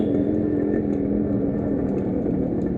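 Modified Yamaha RX 100 motorcycle with dual silencers idling with a loud, steady exhaust rumble and a continuous low throb, close by and without pauses.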